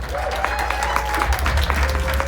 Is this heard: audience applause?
yes